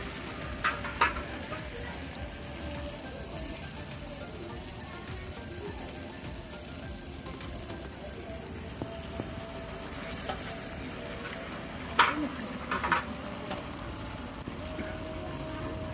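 Kembang goyang batter frying in hot oil, a steady low sizzle and bubbling throughout, with a few faint clinks.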